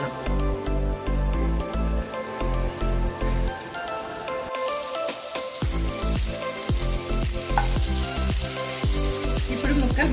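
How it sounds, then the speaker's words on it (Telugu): Okra pieces frying in a pan, a continuous crackling sizzle with stirring scrapes and taps, briefly quieter midway before the frying picks up again. "ఇప్పుడు ముక్కలు బాగా ఫ్రై అయ్యాయండి."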